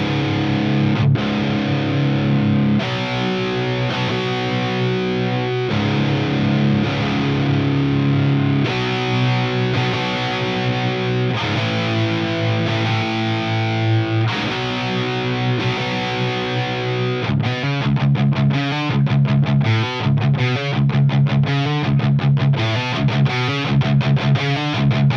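A heavily distorted electric guitar reamped through a modded Marshall amplifier with an overdrive pedal plays sustained chords, then shifts to tight, rapid chugging palm-muted riffs, loud and close with no voices.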